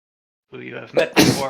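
A single sneeze bursts out sharply right after a stretch of a man's speech, close and fairly loud, with talking just before it.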